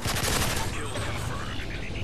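Sniper fire and the gunfight around it in Call of Duty: Modern Warfare 3 come through as a dense burst of loud gunshots at the start. The shots fade into mixed game noise.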